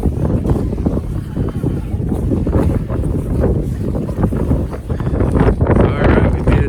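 Strong wind at a ski hill buffets the microphone in loud, rumbling gusts that never let up, with speech partly buried beneath the roar.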